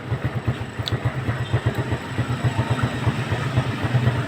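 A motorcycle engine idles with a steady low, pulsing putter, close by and continuous, with no voices.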